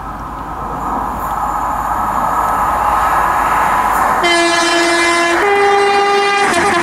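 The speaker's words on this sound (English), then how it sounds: "passing through now is a HST from Nottingham to London St Pancras" HST high-speed train from Nottingham to London St Pancras passing at speed, a loud steady rumble of the rolling train, then a sustained two-tone horn sounding near the end.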